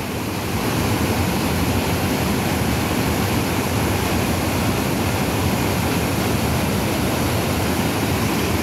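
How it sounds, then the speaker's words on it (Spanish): Water pours over the Loreto San Marcos dam in Zacatecas as a constant, loud, broadband roar with no break, like a heavy rushing waterfall. "De la izquierda, vean al fondo de la presa, ya comienza a arrojar agua."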